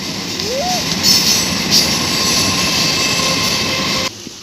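A train passes close by with a loud rumbling roar and a brief rising wheel squeal near the start, before cutting off abruptly at the end.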